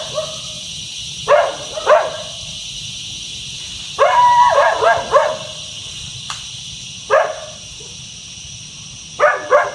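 Dogs barking at night in short bursts of two or three barks, spaced irregularly and moderately distant, over a steady hum of insects and background noise.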